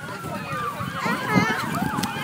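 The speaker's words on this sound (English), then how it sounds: "And there's the ambulance." An ambulance siren wails at a field trip stop by a duck pond, its rising and falling tone sweeping steadily over nearby children's chatter and crowd noise for the whole stretch.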